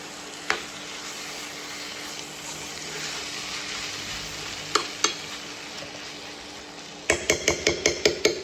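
Fajita chicken mixture with tomato paste being stirred in a frying pan: a soft sizzle runs under a few utensil knocks, then a quick series of sharp, rhythmic scrapes and taps against the pan at the end.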